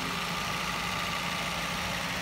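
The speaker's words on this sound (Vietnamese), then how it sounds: "Động cơ êm." Engine of a 2008 Toyota Vios idling smoothly, a steady, even hum with faint vibration, heard close and alone with no talk.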